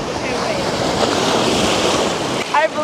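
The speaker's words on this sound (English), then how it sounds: "So that's what we're here on the beach to do." Ocean surf breaking on a cold beach, a steady loud roar of waves with wind buffeting the microphone, continuous throughout.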